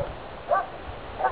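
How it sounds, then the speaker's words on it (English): Dogs bark in the distance outdoors, two faint separate yelps about half a second and over a second in, thin and far off against a low background. "Oh, I can hear dogs."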